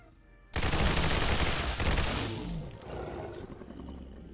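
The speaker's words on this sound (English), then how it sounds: "Let's try something a bit crazier, like the Rat Shot, which is essentially a shotgun blast coming out of this weapon." A Rat Shot shotgun blast fired from a silenced .22 SMG in a modded Fallout 4 game: one sudden loud broadband boom with a rolling, crackling tail that fades over several seconds.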